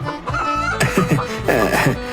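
A hen in a cartoon folk tale clucks in a quick series of short, throaty calls, close and fairly loud, with a few sharper squawks near the end.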